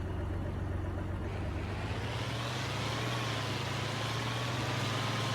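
Tractor engine idling in Farming Simulator 25, a steady low drone with a faint whine above it that holds throughout without a break.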